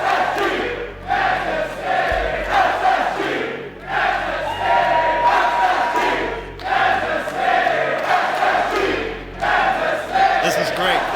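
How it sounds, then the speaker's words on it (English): A packed stadium crowd at the Rocket League World Championship chants in loud, rhythmic waves, each surge rising and falling every few seconds in a sustained roar. "You can let the crowd speak for us."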